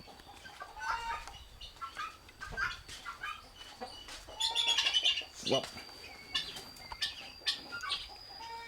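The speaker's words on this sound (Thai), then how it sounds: "ไก่ตอก" Guinea fowl on a farm call with harsh, rapid cackling chatter amid other bird sounds, while a person speaks briefly nearby.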